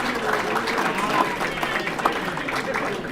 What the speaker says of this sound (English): Give yourselves a round of applause supporting the Purple Eagles baseball here in February.